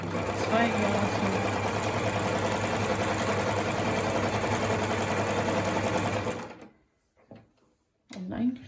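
A Privileg Voll-Zickzack 210 sewing machine stitches at a steady fast pace, loud and close for about six seconds before stopping, followed by a brief clunk and faint handling noise.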